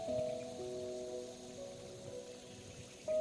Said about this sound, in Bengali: মিডিয়াম টু লো ফ্লেমে আমি সমস্ত গোলাপজামগুলোকে ভেজে নেব